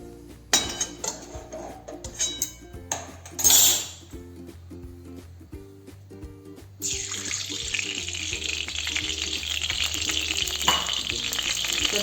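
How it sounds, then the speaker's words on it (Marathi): Cooking oil poured into a kadhai and heating for upma, with clattering utensils early on, then a steady close sizzle and hiss that holds loud and even to the end. "आता यामध्ये आता आपण तेल ओतणार आहोत कढईमध्ये"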